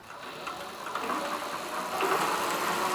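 A 750 W electric bike hub motor whirs steadily as it spins the wheel under throttle, a mid-pitched mechanical hum that rises slightly in intensity partway through, close and alone without talk.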